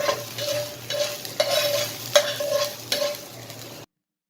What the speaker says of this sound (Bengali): তো আমি এই বাগারটা তৈরি করে সরাসরি হালিমের উপরে দিয়ে দিচ্ছি।